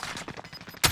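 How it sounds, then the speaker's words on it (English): Video game gunfire in a trio battle match: a quick run of shots at steady moderate loudness, closing with one louder, sharper blast at the end. "Put bullets in him again."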